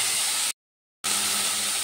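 Karamcha fruit dropped into hot oil with panch phoron and a dried red chilli gives a loud, steady hiss of sizzling frying, broken by a brief silent gap before the sizzle resumes just as strongly.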